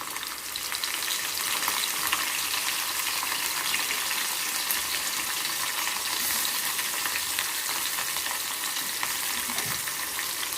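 Garlic and dried shrimp frying in oil for a tender amaranth and dried shrimp stew, an unbroken dense hissing sizzle, close and steady throughout with no talking.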